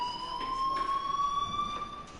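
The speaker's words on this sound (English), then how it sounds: "Hey, do you hear that fire alarm?" A school fire alarm in the game Life is Strange, a steady high electronic tone with faint pulsing, droning continuously at moderate volume with no voices.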